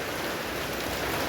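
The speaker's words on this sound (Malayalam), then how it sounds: "വെള്ളമൊക്കെ ചാറുന്നുണ്ട്." Rain falls outside during a storm with wind, a steady broadband patter that fills the short moment evenly with no voices.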